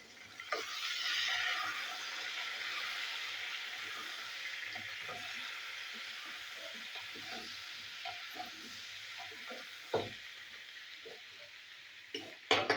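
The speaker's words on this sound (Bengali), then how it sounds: "ঢাকা দিয়ে দিয়ে এবং ভাজতে হবে" Teasel gourd pieces dusted with chili powder fry covered in a pan, making a soft, steady sizzle and hiss with occasional light clicks and taps. No one speaks.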